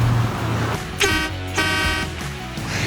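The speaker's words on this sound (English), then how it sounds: "I've got a little air compressor under the passenger seat and a tank that's in the rear keg back there that actually powers those horns" Compressor-powered air horns on a 1939 Chevy copper rat rod sound two short, loud blasts about half a second apart over a low rumbling background.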